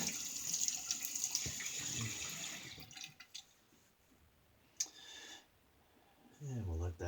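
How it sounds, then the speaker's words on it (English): A razor blade is rinsed under a running tap, a steady hiss of water splashing at the start, then quieter handling, with a brief gush returning near the end. "Get the blade rinsed on both sides."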